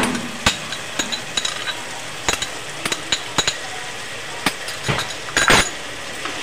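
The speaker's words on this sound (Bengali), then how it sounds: "দইটা দিয়ে আবার মশলা দিয়ে ভালো করে কষিয়ে নেব।" Spice paste and whisked sour yogurt being stirred in a pan for a vegetarian dhokar dalna, with a spoon clinking and scraping against the metal in irregular sharp taps over a soft steady background.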